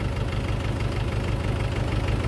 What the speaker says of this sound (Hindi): 575 मात्र 45 HP का ट्रैक्टर है और 13 टाइन का कल्टीवेटर चला रहे हो, बढ़िया चल रहा